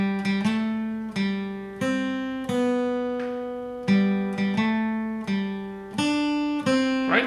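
Guitar plays the Happy Birthday tune with a swung, long-short rhythm, distinct plucked notes sounding clearly on their own without any voices.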